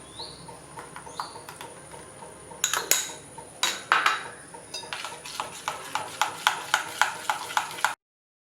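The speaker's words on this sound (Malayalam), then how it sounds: "ഞാനൊരു സ്പൂൺ ഉപയോഗിച്ച് മിക്സ് ചെയ്യുകയാണ്." Spoon scraping and tapping through banana cake batter with jaggery and curd in a bowl, a steady run of rhythmic close clinks that grow louder before stopping abruptly.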